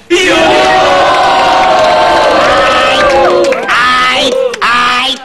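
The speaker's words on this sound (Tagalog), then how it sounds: "Ay, tama na muna sigawan" A studio audience at a comedy show's pick-up line battle cheers and shouts loudly, a continuous roar of whoops and yells with brief dips before swelling again.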